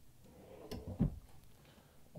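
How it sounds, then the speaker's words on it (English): A pull-out storage drawer in a 2023 Renegade Classic 38CSB motorhome kitchen slides open with a brief rolling rumble and a soft thump, in an otherwise hushed room. "Each side of this has a pull-out storage drawer."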